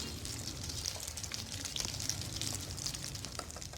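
Aloo puri fry in hot oil, giving a steady close hiss and crackle of bubbling with small pops throughout.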